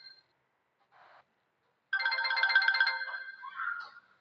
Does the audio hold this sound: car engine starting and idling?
no